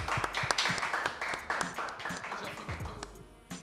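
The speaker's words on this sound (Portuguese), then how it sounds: "Palmas pro Cauã, hein, família?" A studio audience claps and cheers after a rap battle semifinal, with dense, busy applause and a voice talking over it throughout.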